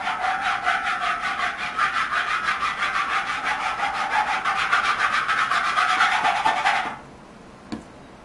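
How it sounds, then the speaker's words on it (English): Rhythmic rubbing of glue across a plastic sign for a cheap parabolic mirror, a fast, even back-and-forth scraping close up that continues for about seven seconds, then stops, followed by a single faint tap. "We're gonna rub the glue around just a little bit, just to get it a little extra smoother."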